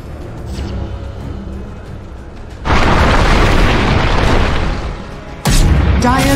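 A tower is destroyed in the Dota 2 video game. Two heavy booming crashes hit over a low game backdrop: a long roaring blast partway through, then a second sharp burst near the end.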